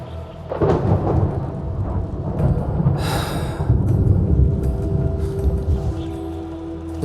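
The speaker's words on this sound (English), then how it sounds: "The sky is heavy with rain clouds. This weather is most fickle." Thunderstorm with rain in an Arknights: Endfield cutscene: a low rumbling roll of thunder with a sharp crack near the middle, over steady rain hiss, no talking.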